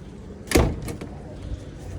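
An old door without a spring swings open, one soft thump and rattle followed by a couple of faint creaks and taps, close by over a low background hum.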